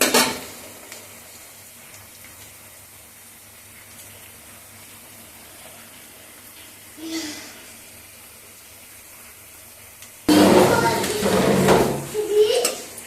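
Onions frying with salt in a pan while being stirred for an arbi root curry. Quiet sizzling gives way near the end to a loud burst of scraping and stirring, and a voice talks faintly over it.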